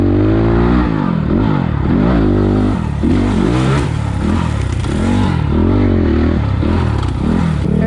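Revving of a 2020 SSR Motorsports SR300 Chinese dirt bike fitted with a Lectron carburetor, loud and close, blipping the throttle repeatedly over a slightly high idle, with rising and falling engine pitch and no talk.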